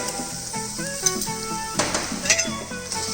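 Chopped ginger and garlic frying in hot oil with red chili and hing, a steady sizzle with a few stirring clinks of a pan in a food production practical kitchen; tonal sounds run through the background.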